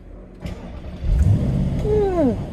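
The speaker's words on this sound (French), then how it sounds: "on entend la mélodie, le ronron de ce bloc XK 5 litres" A 2014 Jaguar XK Convertible's 5.0-litre engine cranks via push-button start and catches, then settles into a deep, smooth idle with a rising whine, close and fairly loud.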